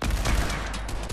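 Fortnite gunfire erupts as a rapid burst of close, punchy shots packed tightly together over about a second, with no talk.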